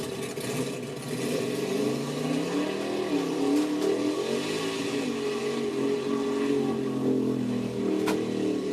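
A four-wheel drive mud truck revs hard, its engine note climbing and falling in repeated surges over a steady rumble, loud and close throughout with no talk.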